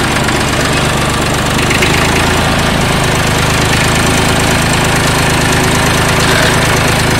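A Fordson Dexta tractor engine runs steadily in top gear, giving a loud, continuous low diesel chug with a knocking rhythm that holds throughout, with no talking.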